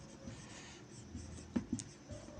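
Chalk or a marker scratches across a board during a grammar lesson, short quiet scraping strokes with a couple of light taps, close and faint.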